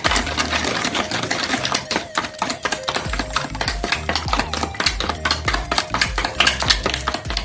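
Spoon stirring sugar with ground cardamom in a bowl, quick repeated clinks and scrapes against the bowl in a busy, close, continuous rhythm with no talking.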